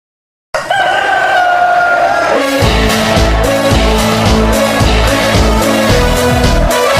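Rooster crows loudly close by with chickens clucking, a full, continuous barnyard chorus that begins abruptly after a brief silence and keeps going with repeated calls layered over each other.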